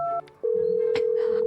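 A telephone keypad dials a quick run of short electronic tones, one held longer, sounding clearly and close with nothing else around it.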